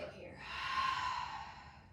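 A soft, breathy exhale during a beginner yoga class, rising and fading over about a second, quiet and close with no talk over it.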